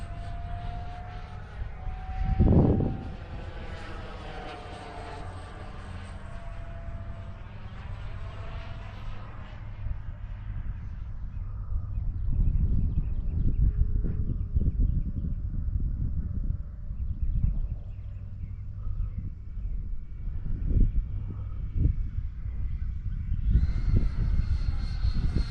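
F-14 jet engines spooling up to full throttle in a flight video game, a loud steady engine roar with a rising whine that builds and holds, with brief louder swells near the end.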